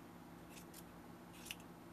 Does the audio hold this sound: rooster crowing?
no